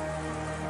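In the video game Umineko When They Cry, a steady hiss of continuous wind and rain plays as a dense, unbroken wash of sound for under a second.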